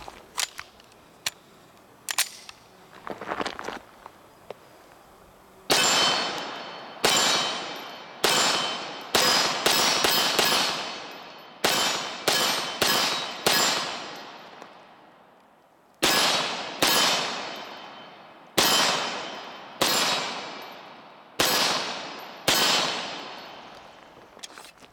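A Beretta M9A3 pistol fitted with a stainless steel guide rod fires about fifteen loud, sharp shots in uneven groups, each crack followed by a brief ringing decay, after a few fainter clicks and knocks at the start.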